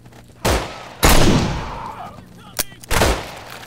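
Gunshots in the zombie video game No More Room In Hell, three loud close single shots with decaying echo tails over roughly three seconds, no talk over them.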